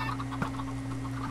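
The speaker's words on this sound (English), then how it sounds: "I wanna kill all those chickens so badly now." Minecraft chickens cluck softly in a game world over a steady electronic hum, a brief low clucking blip standing out once partway through.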